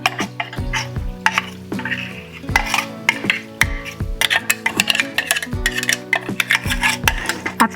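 A spoon stirs finely ground chutney into sour curd in a bowl, repeated scraping and rasping strokes in an uneven rhythm, close and clear with no talk.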